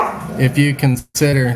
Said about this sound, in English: sorry about my dogs, I have too many of them